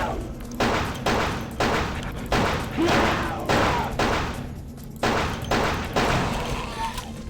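Gunfire in the game Vampire The Masquerade Bloodlines rings out as a steady series of loud, evenly spaced shots, about a dozen blasts each with a short decaying tail, with no other sounds between them.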